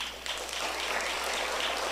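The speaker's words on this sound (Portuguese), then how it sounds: "Uma salva de palmas para o nosso irmão Faustinho." An applause for a church member named Faustinho: dense, steady clapping from a crowd filling the short moment, fairly loud and continuous.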